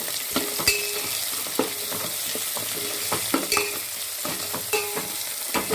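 Onion and a medium tomato sauté in a pan with a steady close sizzle, punctuated by frequent sharp taps and scrapes of a spoon stirring against the metal.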